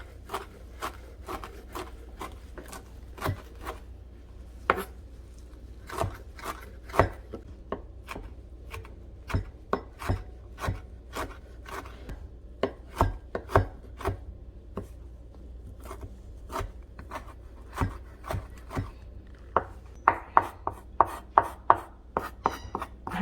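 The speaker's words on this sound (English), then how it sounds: "So I'm going to chop it up and I'm going to divide it." A knife chops cilantro on a cutting board in a home kitchen, a long run of sharp, close taps in uneven bursts, some rapid and some spaced, with no talking.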